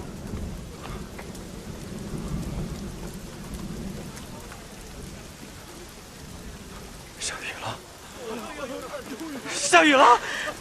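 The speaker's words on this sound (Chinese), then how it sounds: "下雨了！" Rain falls steadily on surfaces through a drama scene set in a drought-stricken port, with low rumbles of thunder beneath and a sharper crack near the end; voices cry out over the downpour.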